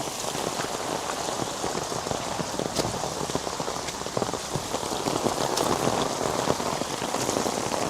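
Steady heavy rain pours over a flooded river path in stormy Australian weather, a dense continuous patter of drops that builds slightly toward the end, with no voices.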